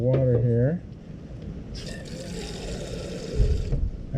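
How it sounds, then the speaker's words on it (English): Water is poured onto soil in an indoor seed starter. A brief voice at the start gives way to a steady, close trickle and splash lasting about two seconds. "I'm gonna get a little bit of water here."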